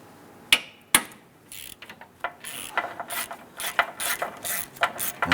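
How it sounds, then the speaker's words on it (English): A ratchet turns a swivel 10mm socket on an extension while working on a 2008-2013 Nissan Rogue, giving close, rapid clicking pawl bursts after two sharp knocks. "You can use a swivel 10mm socket and extension."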